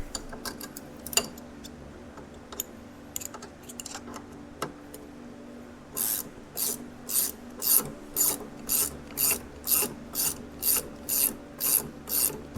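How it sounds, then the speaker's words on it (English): A hand ratcheting wrench turns a bolt on a Polaris Sportsman 700 ATV, starting with scattered ticks and then settling into a steady series of about a dozen close, crisp ratchet sweeps. "We're going to use this here ratcheting wrench."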